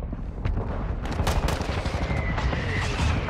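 A mortar strike pounds the battlefield in Call of Duty: Modern Warfare II, a dense run of sharp blasts and crackling impacts rattling continuously at steady loudness, mostly near with a rumbling undertone.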